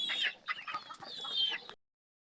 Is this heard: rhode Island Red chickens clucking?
yes